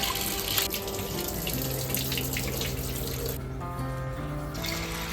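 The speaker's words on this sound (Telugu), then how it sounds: "కుక్కర్లో 2 గ్లాసుల కందిపప్పు, 1 గ్లాసు శనగపప్పు వేసుకొని శుభ్రంగా కడుక్కోవాలి" Running tap water splashes steadily as toor dal and chana dal are rinsed in a pressure cooker in a home kitchen, a continuous near wash with a few faint tonal hums beneath.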